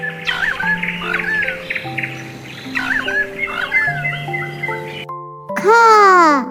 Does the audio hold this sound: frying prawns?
no